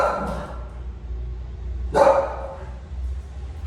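A female dog barks twice, sharply and close by, the barks separated by a pause over a low background hum.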